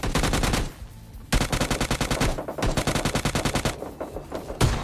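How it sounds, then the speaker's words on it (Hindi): Rapid bursts of automatic gunfire in the video game PUBG Lite, loud and close, with short pauses between volleys and no voices. "पीछे से भी कहीं से गन शॉट्स की आवाज आ रही"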